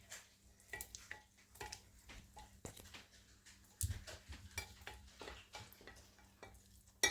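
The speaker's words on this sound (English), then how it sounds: "Hear it bubble." Hard rock candy syrup bubbling in a microwave gives faint, irregular popping and crackling with soft sizzling, quiet and close, with a low steady hum underneath.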